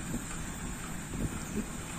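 A gentle breeze blows at the small Awipari railway station on a hot day, heard as a steady low, rumbling wind noise with no other clear sounds.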